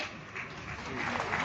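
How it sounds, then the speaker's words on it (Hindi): Audience at a Delhi event for the launch of DTC buses claps slowly and steadily, a soft, continuous patter of applause spread across the crowd. "तो ताली धीरे क्यों बजा रहे हो?"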